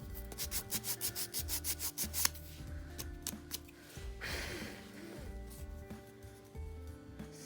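A resin butterfly note holder is sanded smooth with quick, rhythmic rubbing strokes, about a dozen in a steady burst followed by scattered slower passes, all soft and close over quiet background music.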